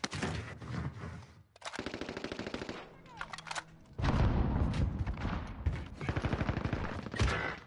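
Heavy rapid automatic gunfire from Call of Duty Warzone comes in dense bursts with brief lulls between them, loud and close, with some sharp booms mixed in.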